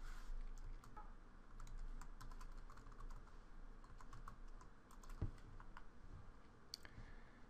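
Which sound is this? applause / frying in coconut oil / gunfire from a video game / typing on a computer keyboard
typing on a computer keyboard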